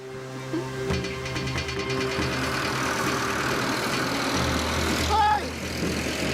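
A tractor engine idles on a farm in a low, steady rumble that persists throughout, with people's voices faintly over the drone.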